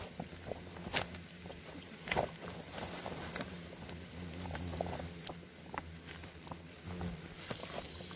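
Rain patters continuously outdoors with irregular close taps and drips over a steady background wash, and no talking is heard.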